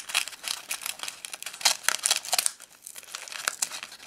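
Cardboard and plastic packaging of an Athearn Special Edition model train box set being ripped open, a rapid run of close, loud crinkling and tearing bursts with no voice.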